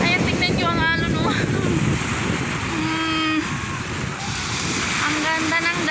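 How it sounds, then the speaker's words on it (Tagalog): Ocean waves wash onto a beach in a steady, rushing surf under gusty wind buffeting the microphone, while a person talks over it. "Ayan, tingnan nyo ang alon"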